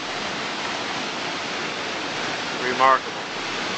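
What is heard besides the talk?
Niagara Falls waterfall roaring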